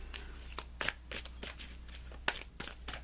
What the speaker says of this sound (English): Let me pull you an additional guidance card.